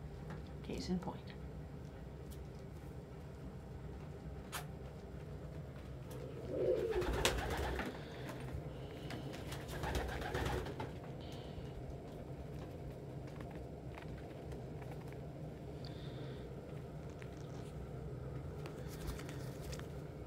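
Pigeons coo softly in an indoor loft, with faint low calls and a brief louder flutter or rustle near the middle, under steady room noise.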